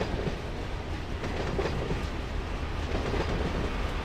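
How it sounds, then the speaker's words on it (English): Simulated trains from the Run 8 train simulator game roll past on parallel main tracks of the busy Cajon subdivision, a steady loud rumble with clickety-clack wheel noise throughout, no talking. "Stacked trains passing each other on main 1 and main 2 while I wait off on the spur"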